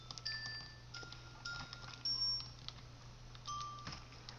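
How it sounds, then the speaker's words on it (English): Chimes forming in Slime Rancher: a scatter of bright, clear chime tones ringing out one after another over a low background hum, each note short and distinct. "And that's how the chimes form."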